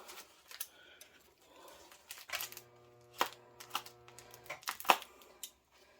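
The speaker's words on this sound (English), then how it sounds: "And cutting with bad scissors, just laugh" Snips from a pair of poor-quality scissors cutting open packaging while a Paragon benchtop Vitrigraph kiln is unboxed, a few sharp separate clicks and crunches, close and fairly quiet, with no one speaking.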